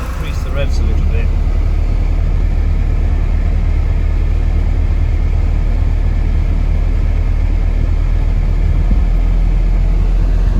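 A 1986 Porsche 944 engine runs steadily, a loud continuous low rumble that holds even for the whole stretch, with a faint brief tone near the start.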